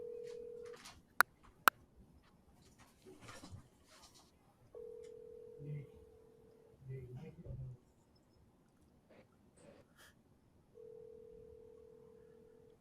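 Phone call placed on speakerphone: a steady ringback tone sounds in several long pulses with gaps, under quiet voices talking in the room.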